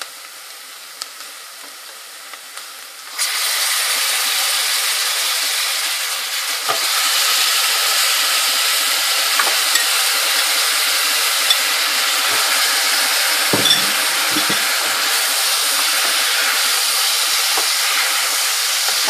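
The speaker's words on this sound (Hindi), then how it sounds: "ये अब मैं इसमें गोश्त डाल के इसको भूनती हूँ।" Meat (gosht) sizzling and frying in a pot with korma masala for a daikon radish curry, a sudden loud steady hiss that continues throughout with occasional stirring scrapes, close up.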